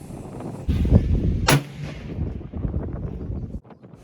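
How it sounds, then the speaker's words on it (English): Single loud gunshot from a 1903A3 military surplus rifle at an outdoor range, a sharp broadband crack over steady wind noise with rumbling echo trailing off. "Here comes that second shot."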